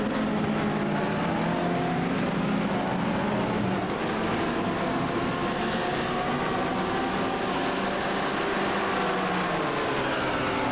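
A GT3 race car engine in the iRacing video game drones loudly and continuously at Hockenheim, its pitch wavering up and down as it revs, with no voices.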